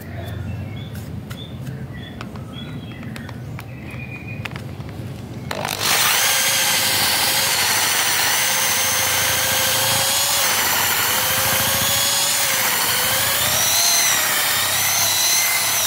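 Scattered knocks and taps at first, then a loud power drill with a hinge-cup boring bit kicks in and whines steadily into wood, drilling a concealed hinge hole, close and continuous.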